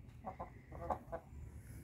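Several backyard hens cluck in short, quick bursts at close range, a soft uneven series of calls over a low outdoor rumble.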